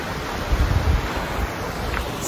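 The Colorado River flows beside a Grand Canyon trail, a continuous rushing wash close by with a breeze gusting across the microphone.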